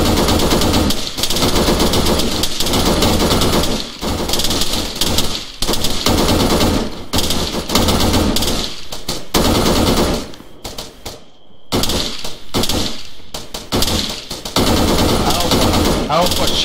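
Gunfire in the Arma 3 multiplayer video game, loud sustained automatic bursts rattling almost nonstop for many seconds with a brief lull, while players shout over the shooting.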